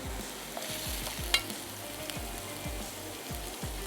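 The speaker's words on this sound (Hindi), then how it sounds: "यहाँ पे हम चटनी को थोड़ा सा फ्राई करेंगे" Green chutney lightly frying in a pan with fish pieces added, a steady close sizzle broken by regular scraping stirs of a spoon against the pan.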